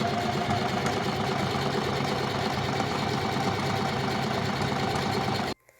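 Singer sewing machine stitching the middle seams of a pair of pants, a close, continuous motor hum and rapid needle chatter running steadily for over five seconds before cutting off abruptly.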